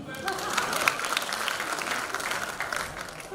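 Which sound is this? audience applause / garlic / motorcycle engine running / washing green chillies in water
audience applause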